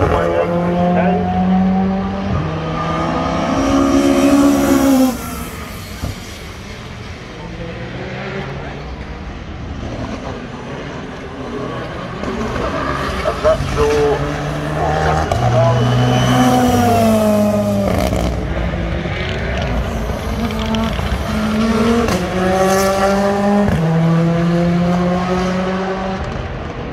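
A red-orange Ford Fiesta rally car on a tarmac stage at Cadwell Park during the North Humberside Stage Rally, its engine loud and close, revving and falling in repeated surges as it pulls away, with a commentator talking over it.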